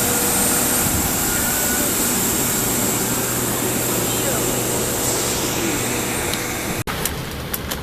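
Aircraft engines roar steadily out on an airport tarmac, a broad continuous rumble and hiss close by, ending with a sharp clunk and a few small knocks.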